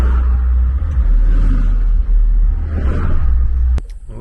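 A car rolls slowly along a road with a fuel tank loaded in the back, its engine a steady low rumble close by, ending in a sharp click and quieter hum.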